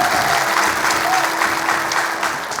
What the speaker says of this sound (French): Et on les applaudit.